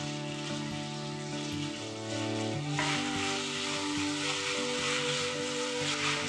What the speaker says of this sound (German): Ein Schuss Öl in die heiße Pfanne. Die Fleischstreifen schon mal braten.